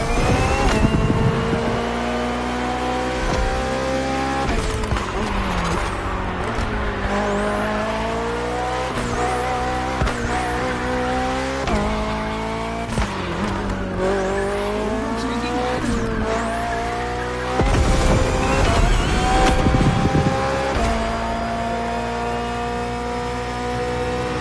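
A BMW hybrid V8 race car in a driving game roars loud and close, its engine pitch sweeping up and down through repeated gear shifts and revs, with tire squeal mixed in throughout.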